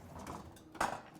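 A small cooking pot is lifted and set down in a home kitchen, giving a single brief metallic clank near the end of a quiet moment.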